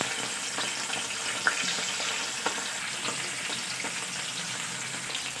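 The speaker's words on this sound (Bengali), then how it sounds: "ওই তেলের মধ্যে আমি মাছগুলো ভাজতে শুরু করে দেবো।" Fish coated in salt and turmeric fry in hot oil with a steady, even sizzle and an occasional crackle or pop, close and moderately loud, with no voices.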